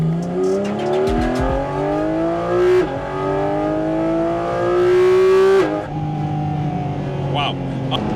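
A 2023 Porsche 718 Cayman GT4 RS, its engine shared with the GT3, revs up in long rising sweeps with sharp shifts, loud and close, while voices talk over it.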